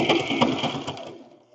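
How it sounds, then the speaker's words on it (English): A sewing machine runs in a fast mechanical rattle for about a second, then slows and fades out; no talking. "You probably couldn't hear my joke over the sewing machine."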